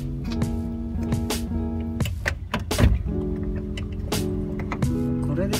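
Door checker arm on a Toyota Hiace catching on the end of the checker, giving repeated rubbing and clunking as the door swings, with some knocks and short tonal squeaks across several seconds.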